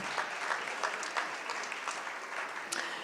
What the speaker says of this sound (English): Give him an applause for his passion.